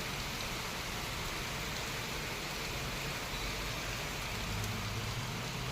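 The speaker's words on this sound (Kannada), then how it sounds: "ಇವತ್ತು ಮತ್ತೆ ಹೆಂಗೆ ಜೋರ ಮಳೆ ಸ್ಟಾರ್ಟ್ ಆಗಿಬಿಟ್ಟತಿ" Heavy rain pours down in Bengaluru, a constant, even hiss of falling water that holds unchanged throughout at a moderate distance, with no voices.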